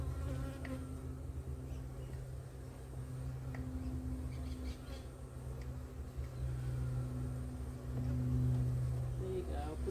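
Honey bees swarm around a Flow Hive during a honey harvest, a steady close droning buzz that swells and fades slightly as insects pass, with a faint low hum underneath.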